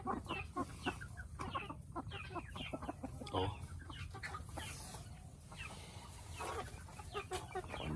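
Silkie chickens cluck repeatedly at close range on a small egg-laying farm, with steady overlapping hen calls and occasional louder bursts throughout.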